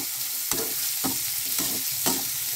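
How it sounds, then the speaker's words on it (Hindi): Cut carrots being fried in a pan, a steady sizzle punctuated by four evenly spaced spatula stirs and scrapes, close and clear with no speech. "तो अब हम अपनी इसमें गाजर डालेंगे जो हमने काट के रखी थी। इसे भी अच्छे से भूनेंगे"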